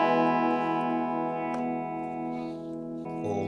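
A bright electric guitar chord played on the bridge pickup rings out with effects and slowly decays, followed by a brief new strum near the end.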